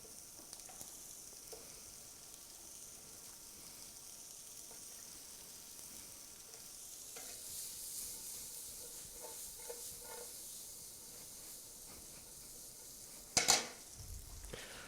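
Pierogi dumplings go into a pan of sweated onions and fry with a soft, steady sizzle and hiss, broken by light scraping and stirring. A sharp clatter of a pan or utensil comes near the end.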